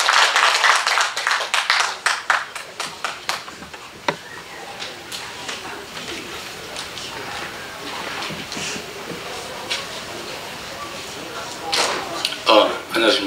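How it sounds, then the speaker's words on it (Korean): Welcoming applause from an audience at a Korean literary festival event, scattered clapping that is strongest at the start, thins into a sparse patter, and picks up again near the end. "모두 환영의 큰 박수 부탁드립니다."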